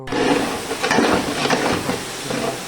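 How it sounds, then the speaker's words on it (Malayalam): Masala-coated chicken pieces fry for biryani with a loud, steady sizzle and hiss close up, broken by a few scraping stirs in the pan, with no talking. "നമ്മൾ കോഴിയെല്ലാം പൊരിച്ചെടുക്കുന്നത്"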